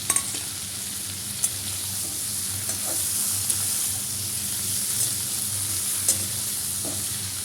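Taro and shrimp frying in a pan with salt, turmeric and chili powder, a steady close sizzle with faint scraping stirs and small clicks of the utensil throughout.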